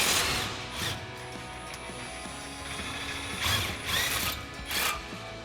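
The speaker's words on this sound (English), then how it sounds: "So now we'll remove our lower mounting bolt, and with our 21 mil wrench" A ratchet with a 21 mm socket loosens the lower shock mounting bolt on a 2020-2026 Chevrolet Silverado 2500 during a leveling kit install. The clicking pawl comes through close up in several short bursts, alone and without talk.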